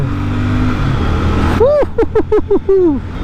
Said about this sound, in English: it really gets up to speed very quickly